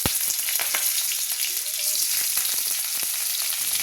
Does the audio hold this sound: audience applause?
no